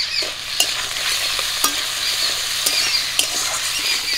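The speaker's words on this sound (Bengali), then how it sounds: "আলুগুলো একটু ভাজা ভাজা করে নেব।" Potatoes fry in a pan with turmeric and salt, giving a steady close sizzle broken by sharp clicks and scrapes as a utensil stirs them.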